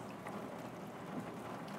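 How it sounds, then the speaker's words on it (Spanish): Steady rain in the video game Dying Light 2, a constant broadband hiss of falling water that stays even and moderately loud throughout, with no voices over it. "¿Está lloviendo, tío?"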